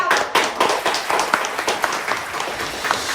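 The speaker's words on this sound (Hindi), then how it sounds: "एक बार जोरदार तालियां सभी के लिए।" Audience applause at a gala dinner: a brief burst of sharp, scattered hand claps, moderately loud and fading after a few seconds.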